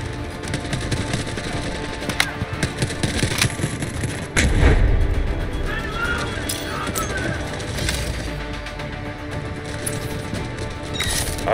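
An artillery barrage in the shooter Delta Force rumbles through a busy battlefield, with scattered distant gunshots, thuds and a heavier low boom midway, all under continuous combat noise.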